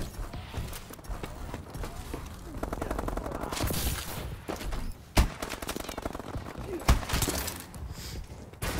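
M14 rifle shots in Call of Duty: Advanced Warfare multiplayer gun game ring out in bursts and single cracks, mixed with footsteps and game noise, a couple of sharp loud reports standing out.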